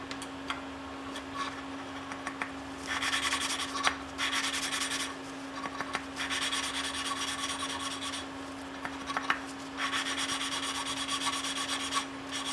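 Engine valves on a 1928 Briggs model FH are lapped by hand: repeated rubbing, rasping strokes come in irregular bursts, close and moderately loud, over a steady low electrical hum.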